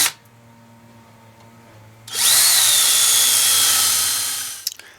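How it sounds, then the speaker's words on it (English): A power drill bores holes through a metal dryer vent, whining loudly and steadily for about two and a half seconds after a quiet stretch, then winding down with a few small clicks. "Now I can go ahead and drill the last two holes while I got everything is secure."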